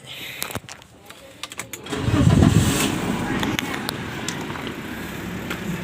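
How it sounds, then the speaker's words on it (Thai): A BMW 318i engine cranks over and starts, settling into a steady mid-pitched idle that runs smoothly after a few clicks and handling noises, heard close up. "เครื่องเงียบนะ ขับดีอยู่"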